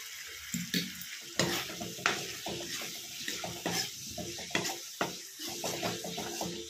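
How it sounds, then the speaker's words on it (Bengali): Yogurt batter being tossed and stirred nonstop in hot oil for bhendir rosha, with repeated scraping strokes and wet sizzling close by, in an uneven rhythm of sharp bursts. "আর গরম তেল যেহেতু সেই জন্য সর্বক্ষণ কিন্তু এটাকে এক টানা টস করে যেতে হবে"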